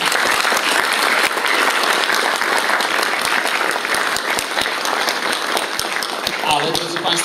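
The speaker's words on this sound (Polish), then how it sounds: "Brawa za to się należy." Sustained audience applause fills a hall at a regional marshal's award ceremony, dense steady clapping from many hands lasting throughout, with a few sharper claps standing out near the end.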